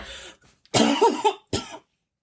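A burst of harsh, repeated coughing: a short cough, then a loud, ragged run of several coughs and one final hack, close up with no talking.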